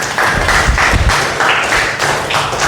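A group applauds in a classroom recitation session, a few seconds of brisk, fairly loud hand clapping with some uneven rhythmic bursts and no voices.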